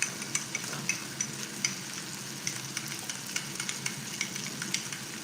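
Onion fries in a pan with a steady, close sizzle and crackle, broken by regular light taps of stirring, with no voices.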